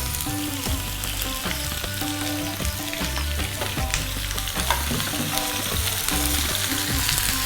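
Ivy gourd pieces sautéing in oil with curry leaves, a loud busy sizzle and crackle punctuated by repeated clinks and scrapes of a utensil against the pan in an irregular rhythm.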